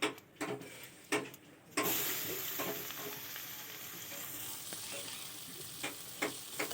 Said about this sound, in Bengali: এবার ফের সেই মাছ ভাজার তেলের ওপরে তেজপাতা দিয়ে দিলাম মাছের তরকারি বসাবার জন্য